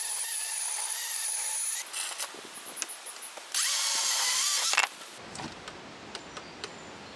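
A Dewalt DCM565 18V cordless chainsaw runs in two bursts of high electric motor whine, each lasting over a second, with quieter mechanical clicks and handling sounds between and after them.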